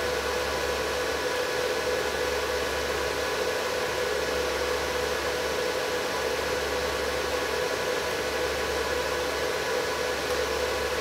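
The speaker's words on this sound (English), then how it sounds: "it's reaching its set point, and the compressor is starting to slow down" A heat pump compressor driven through a used VFD runs as a steady, broadband mechanical hum and whir, close and continuous, with no clear change in level as it eases toward its set point.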